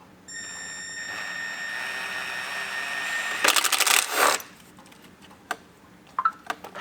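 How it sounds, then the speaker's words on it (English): A drill boring through the plastic bottom layer of a UTV fender on a 2021+ Yamaha Wolverine RMAX2 1000: a steady, whining motor hum for about three seconds, then a harsh grinding burst as the bit cuts, followed by scattered light clicks. "we're just going to drill right into the center of that hole, right through just the bottom layer of the fender"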